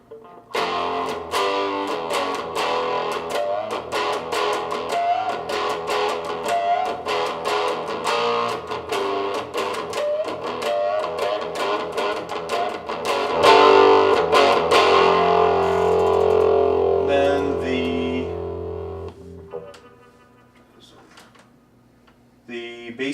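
Electric guitar strummed through a Fender Mustang 1 amp on its 57 Deluxe setting: a steady run of loud, crunchy, slightly distorted strums for about twenty seconds, then a brief fade and a few final scratchy strokes.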